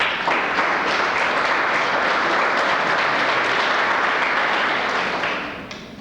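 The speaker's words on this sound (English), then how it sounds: "let's give her a round of applause" An audience at an awards ceremony claps in steady, dense applause that holds loud for several seconds, then begins to fade at the end.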